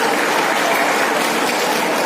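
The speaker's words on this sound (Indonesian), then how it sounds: "Tepuk tangan untuk Pak Jamaluddin" An audience at a police safety-riding talk in Surabaya, East Java, claps in a steady, dense wash of applause that fills the short moment on its own.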